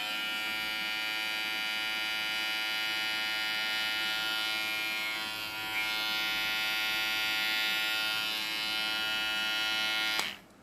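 A cheap Kemei NG 203 hair clipper runs continuously at full speed, a steady close electric buzz with a strong motor whine that holds for about ten seconds, dips briefly once, then cuts off abruptly near the end.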